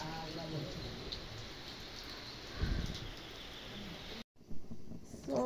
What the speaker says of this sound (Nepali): अहिले पानी पर्दैछ